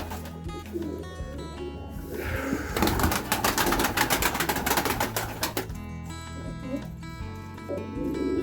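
Pigeons in a dovecote waiting to be fed coo and stir nearby, with a burst of rapid wing flapping and fluttering in the middle amid clattering movement.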